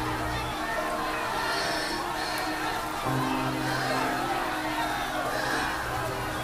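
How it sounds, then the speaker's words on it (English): Dense crowd noise, many voices shouting and clamoring at once in a continuous, agitated roar with occasional whoops, a crowd rioting within a told story. "the crowd began to riot"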